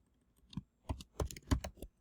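Keys clack on a computer keyboard in a quiet room, about eight sharp taps in a quick, uneven burst after a brief pause.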